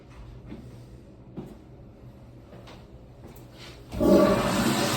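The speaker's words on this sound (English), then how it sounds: "You should get at least a 4-second flush on these for a proper flush" Toilet flush opening with a few soft clunks and handling noises, then a sudden loud rush of water in the last second that keeps going at the end.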